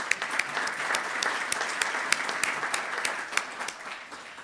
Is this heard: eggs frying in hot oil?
no